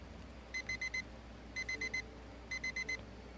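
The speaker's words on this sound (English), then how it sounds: "That was just an alarm that normally means I should stop" An alarm clock beeps in three bursts of four rapid electronic tones, steady and moderately loud over a low background hum, with no talking.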